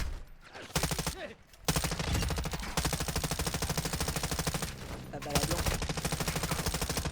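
Rapid machine gun fire from the video game Warzone 2 DMZ rattles in sustained, evenly spaced bursts, loud and close, with a short break near the start and a brief spoken word over it.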